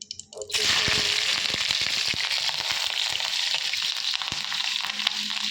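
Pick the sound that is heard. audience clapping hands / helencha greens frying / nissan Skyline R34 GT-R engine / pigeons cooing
helencha greens frying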